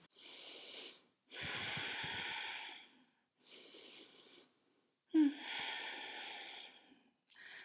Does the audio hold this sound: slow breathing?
yes